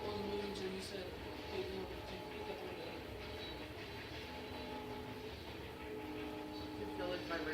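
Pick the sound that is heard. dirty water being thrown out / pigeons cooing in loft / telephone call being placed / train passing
train passing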